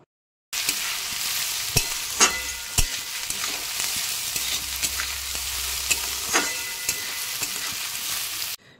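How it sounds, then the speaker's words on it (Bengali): Rice being stir-fried with soybean chunks in a hot pan, a steady sizzle broken by sharp scrapes and knocks of the spatula, loud and close with no voices. "এরপর আবার ভালো করে ভেজে নেব একটু।"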